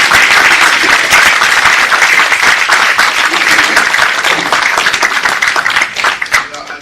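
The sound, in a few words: audience applause for the panel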